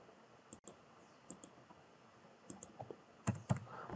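Keyboard typing while code is being deleted: faint scattered key clicks over a soft background hiss, ending in a couple of firmer taps, close and quiet.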